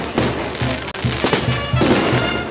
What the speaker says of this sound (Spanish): Quema de fuegos artificiales.